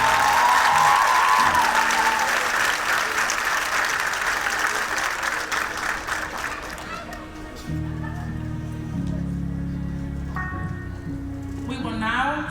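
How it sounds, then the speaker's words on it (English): A crowd applauds a graduate at a certification ceremony, loud, close and dense clapping that gradually thins out, then gives way to a voice talking over a low hum of room noise. "Give her another round of applause."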